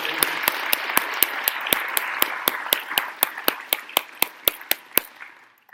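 At a community town hall forum, an audience breaks into applause. Crisp, rhythmic claps sound over a dense wash of clapping, then the crowd thins and slows to a few sharp, separate claps before fading.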